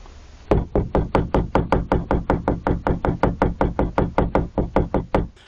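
Persistent knuckle knocking against a camping van after dark begins after a brief lull. Loud, nearby raps repeat at a quick, regular tempo, roughly four per second, with no voices.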